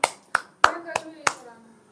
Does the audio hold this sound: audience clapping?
yes